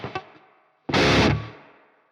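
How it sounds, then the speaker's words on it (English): Electric guitar through a Marshall amp plugin with a room reverb effect: a couple of quick plucks, a pause, then a loud distorted strum that rings out into a fading reverb tail. "The reverb is kind of like this nice room."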